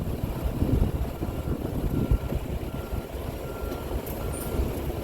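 Truck with a trailer reversing slowly, giving a steady low engine rumble close by with a faint high beep near the end.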